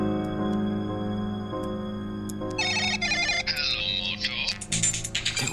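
An unanswered telephone ringtone plays a bright electronic melody in short repeating bursts, fairly close and steady, over a sustained tonal background with busier chirping sounds toward the end.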